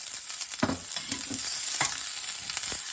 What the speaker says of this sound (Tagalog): Susunod ko na itong bawang at sibuyas. Para hindi masunog ang aking luya.